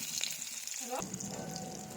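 Onion fries in hot oil in a pan for a fish curry, a soft steady sizzle with light stirring, close but quiet.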